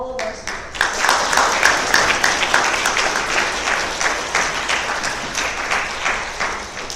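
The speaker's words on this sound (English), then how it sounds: "I would like to call for another round of applause for all of our students." An audience at a youth leadership speaking event gives sustained applause for student speakers, dense steady clapping throughout with no voices over it.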